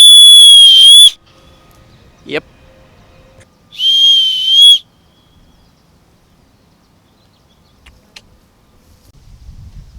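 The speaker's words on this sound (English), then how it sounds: "Here's the last thing on it. It is a whistle." Two loud, shrill blasts from a survival kit whistle, each about a second long, separated by a short pause, with faint clicks and handling noise between and afterward.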